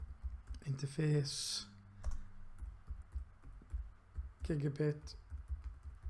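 Keystrokes on a computer keyboard entering Cisco router configuration commands, a quick run of clicks under a man's speech, close and moderately loud.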